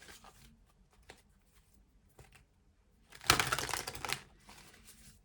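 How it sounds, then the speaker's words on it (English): A single quick burst of oracle cards being shuffled stands out after a few faint taps and clicks, close and fairly loud. "Okay, final shuffle,"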